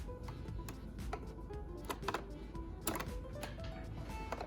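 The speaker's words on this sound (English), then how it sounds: "Now we're ready to put this guy in the sewing machine" A sewing machine stitches a seam on a corset mock-up, giving a faint, quick mechanical ticking and whirring with scattered sharper clicks, close by and with no talking.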